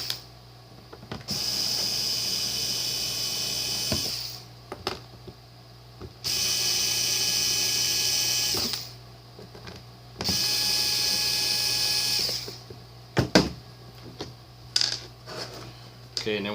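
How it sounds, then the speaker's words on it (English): A small cordless screw gun whirs in three long bursts, with short clicks and clatter of screws and metal from a bump bar in between, close and clear. "I'm going to use this little screw gun here."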